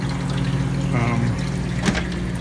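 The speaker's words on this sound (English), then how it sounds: "Clean the condenser with hot water." Hot water is poured over the condenser of an Ice-O-Matic ice machine to clean it, giving a brief gurgling splash under a steady background hum.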